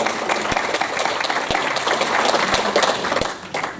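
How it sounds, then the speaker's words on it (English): Audience at a meeting about a shared statement claps together, a dense, fairly loud patter of hands for several seconds with a few sharp knocks standing out, fading slightly at the end. "I thought we should clap for her"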